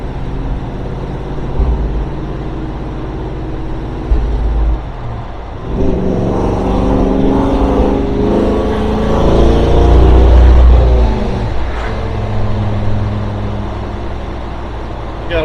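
A cold old car engine runs with a low uneven idle, then revs up repeatedly through the middle with rising whirring pitch before settling back, loud and close with no talking.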